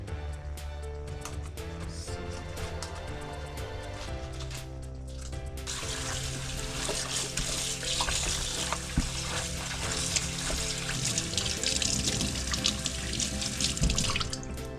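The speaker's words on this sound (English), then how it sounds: "So we also have to wash it." Running tap water in a kitchen sink while vegetables are washed, a steady rushing stream that grows brighter and louder midway as the flow hits the produce, over a low background hum.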